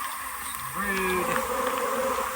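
Honey bees buzzing steadily around open hive boxes while nucs are combined, a close, continuous hum with a rising drone as a bee passes near.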